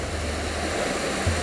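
A mountain stream flows beside a campsite with a steady broadband rush of water, continuous and fairly close, with a low rumble underneath and no talking.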